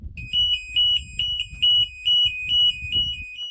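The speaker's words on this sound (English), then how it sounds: "See, that's the troop alarm." Troop alarm buzzer on an M1078 LMTV military truck sounds as a loud, close, steady pulsing tone, about a dozen rapid beeps over a low background rumble.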